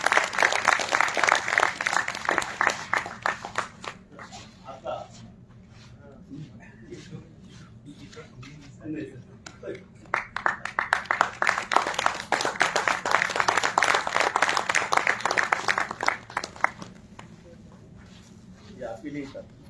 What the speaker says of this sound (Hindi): जोरदार तालियों से स्वागत कीजिए जी।